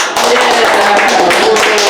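A small group clapping hands during a casual New Year's podcast hangout, loud, close and continuous, dense overlapping claps with a slight dip at the very start.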